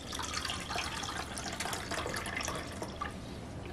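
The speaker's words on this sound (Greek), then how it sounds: "Θα βάλουμε 1 κουταλιά της σούπας ζάχαρη σε ένα μπολ, 1 ποτήρι του νερό." Water poured into a bowl holding a tablespoon of sugar, a steady splashing and trickling stream that runs close and continuously through the whole stretch, with no talk.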